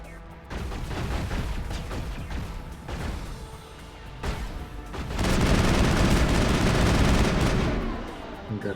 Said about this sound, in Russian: Так, куда по нам стреляют?